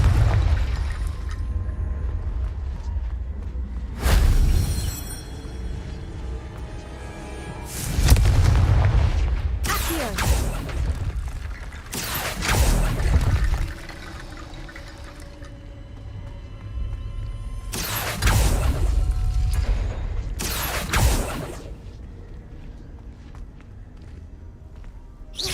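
Repeated Confringo blasting-spell explosions in Hogwarts Legacy, heavy booming bursts recurring every few seconds over a continuous low rumble and ambient game sound, with no talk.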